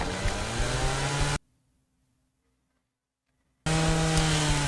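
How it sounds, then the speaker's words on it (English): A chainsaw runs in the Texas Chainsaw Massacre video game, a loud buzzing engine roar that cuts off completely for about two seconds of near silence and then comes back at full volume. "Only when chainsaw is on."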